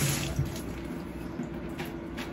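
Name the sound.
washing hands under a running tap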